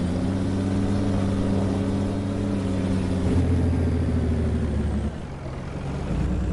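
A truck engine in Farming Simulator 22 rumbles steadily with strong low harmonics, holding a constant drone before the pitch shifts and drops slightly near the end, continuous and fairly loud with no talking.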